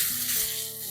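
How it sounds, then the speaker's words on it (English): Pork sausage sizzles in a nitrogen hardened cast iron pan, a dense, steady frying hiss close up with no voices. "Now that those are starting to brown, let's get our sausage in here."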